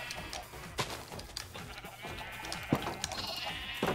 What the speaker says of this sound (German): Du und deine Schafe.